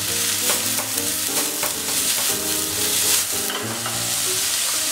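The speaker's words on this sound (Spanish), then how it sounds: "Y salteamos." Julienned vegetables sauté in a hot pan, sizzling continuously while being stirred, with steady scraping and crackling close up and no voices.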